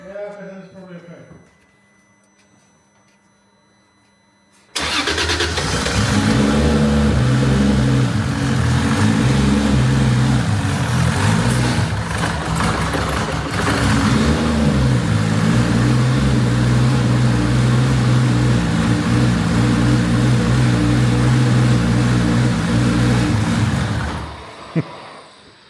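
A drift car's engine runs on all six cylinders, starting abruptly and holding a loud, steady, close idle with a rough mechanical hum for about twenty seconds before cutting off, with voices underneath.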